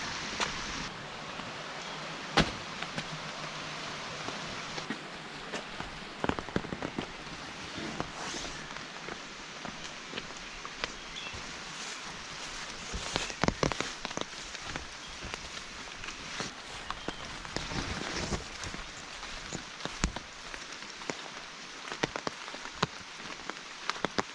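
Light rain falls steadily in a forest on a wet trek toward rocky ground, a soft continuous hiss dotted with close patters and drips, along with occasional footstep-like taps.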